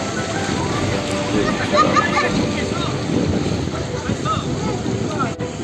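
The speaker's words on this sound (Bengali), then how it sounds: "সুন্দর ঢেউ।" Sea waves wash in steadily at Potenga Sea Beach in a continuous roaring surf, with wind buffeting the microphone and a voice talking over it.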